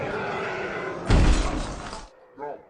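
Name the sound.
zombie banging against glass until it cracks, from film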